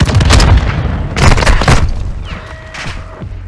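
Heavy gunfire and booming blasts from a military first-person shooter, loud and close, with dense bursts at the start and again midway, then easing into scattered shots and a rising whine.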